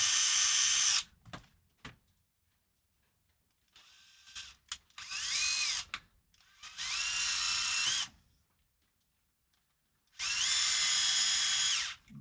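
A cordless power drill drives screws in loud, whining bursts of one to two seconds, separated by pauses with a few short clicks and clunks, close up and without talk.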